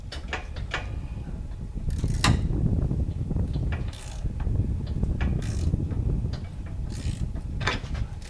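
A wrench works a seized bolt loose on a boat outboard motor being removed, giving repeated metallic clicks, scrapes and strained knocks close up over steady background noise, with no talking.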